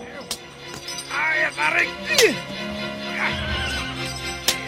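A cart horse stuck in a hole neighs with a loud, shaky whinny. Sharp cracks like a whip strike and faint clinks sound around it, while the background stays busy and cluttered like a film soundtrack.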